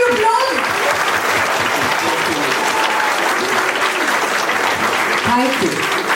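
Sustained, dense audience applause at a literature festival for child authors fills the whole stretch, steady and loud throughout with scattered voices mixed in.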